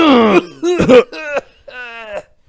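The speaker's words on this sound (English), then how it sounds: "I smoke too much, so sometimes, I get the coughs" A smoker's few rough throaty coughs and throat-clearing sounds, close and loud, in short bursts separated by brief pauses.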